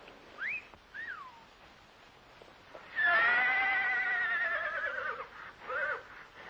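A horse whinnies: a couple of short squeals first, then a long, wavering neigh, followed by a brief final whinny, fairly distant and alone.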